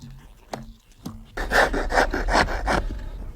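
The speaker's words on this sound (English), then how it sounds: "This is done with the rasp, the wooden rasp." A wooden rasp scrapes along a wooden clog sole in about six quick, loud, close strokes. A few faint knocks and a low hum come just before.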